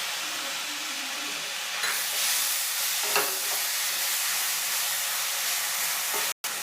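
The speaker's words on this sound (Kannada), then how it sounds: "ಈಗ ನಾನು ಟೊಮಾಟೊ ಪೇಸ್ಟು, ಟೊಮಾಟೊ ತುರಿದಿಟ್ಕೊಂಡಿರೋದು 2 ಟೊಮಾಟೊನ ಸೇರಿಸ್ತಾಯಿದ್ದೀನಿ" Grated tomato is added to bitter gourd and potato frying in a pan, giving a loud sizzle and hiss of steam followed by stirring scrapes, with a brief gap near the end.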